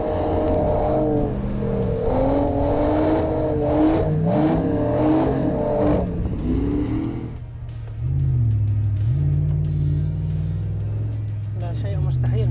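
A Jeep Wrangler with a 6.4-litre SRT engine revs while driving, its loud engine tone climbing and falling through several pulls before settling into a lower steady drone, with someone speaking over it throughout.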